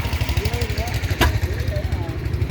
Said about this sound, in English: Another John Deere B.